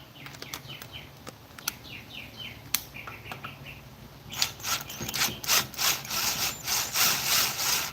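A 10 mm tap is forced against metal while trying to cut threads on a go-kart build with a Briggs and Stratton 5hp flathead. Scattered clicks and short scrapes give way to louder rhythmic grinding rasps up close, with no talking.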